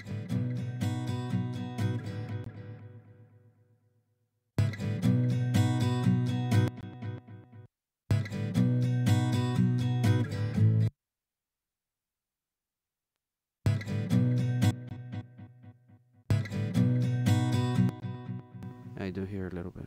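Acoustic guitar heard only through left and right doubled tracks, without the original, strummed in several bursts, each chord ringing out and decaying, with short silences between, wide and slightly hollow-sounding.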